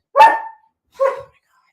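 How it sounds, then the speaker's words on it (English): A pet dog indoors gives two sharp barks about a second apart, loud and close, with silence between and after. "I hate yelling at the dog when he's barking."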